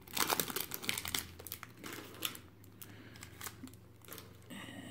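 Plastic wrapping crinkles and rustles in bursts while a Plug cryostat is unboxed, the crackling loud and close at first, then thinner with scattered crisp crackles, and no one speaks.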